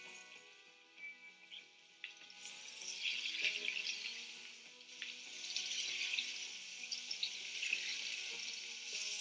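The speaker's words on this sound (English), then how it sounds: "Just get the butter foaming first before you put the fish in." Cod fries in foaming butter and oil, giving a soft, steady sizzle and crackle with small pops, fairly quiet and close, with no voices.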